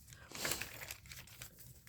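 Faint crinkling and rustling of a paper towel being handled up close, in short irregular bursts.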